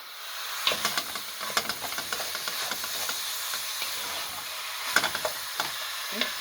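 Ground beef frying in a pan for Bolognese sauce, a steady close sizzle and hiss broken by repeated scraping, crushing strokes as the meat is broken up, with no voices.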